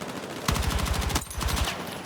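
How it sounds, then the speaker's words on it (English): An SMG in the video game Battlefield 6 fires two loud, rapid rattling bursts with a brief pause between them, and no voices over the shots. "The rattling bark of an SMG."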